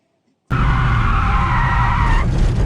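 Tires of a Peugeot 206 S16 skid on a race track in a sudden, loud, sustained squeal that starts abruptly and holds steady to the end.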